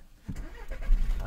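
A Skoda Octavia II facelift with the 1.6 TDI diesel engine cranks and catches after a quiet moment, then settles into a close, low, rough idle rumble, with no talking.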